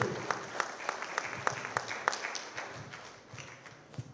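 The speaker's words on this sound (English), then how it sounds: "Please give a big round of applause" Applause from a dinner audience at a community unity dinner, honouring a lifetime achievement: a steady patter of many hands with a few sharper, louder claps standing out, moderately distant in a large room.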